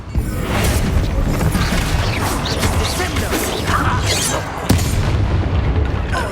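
A Confringo spell explosion in the video game Hogwarts Legacy, with a loud, sustained roar of blasts and crashing debris and a sharp impact near the end, alongside faint voices.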